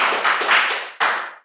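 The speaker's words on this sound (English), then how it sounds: "I think another round of applause for Harry." A small group gives Harry a short burst of clapping outdoors after a chat, dense hand claps fading out, then a second quick flurry that tails off to silence.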